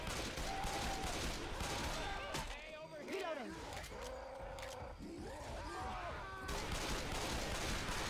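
Dual pistols firing in the video game Left 4 Dead 2, a rapid crackle of shots at the start and end, with growling infected sounds and voices in between.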